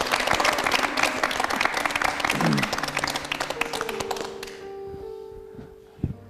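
A studio audience at a talk show claps loudly and densely for about four seconds, then the applause stops and music plays on alone.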